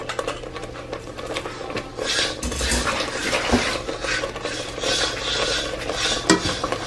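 Alfredo pasta and broccoli being mixed together in a pot, close scraping and clinking of a utensil against the metal with wet, rhythmic stirring strokes.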